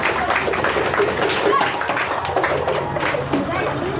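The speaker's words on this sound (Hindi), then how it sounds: "जोरदार ताली होना चाहिए बुआ" Loud, dense clapping from a school audience runs steadily throughout, a continuous wash of many hands with no pause.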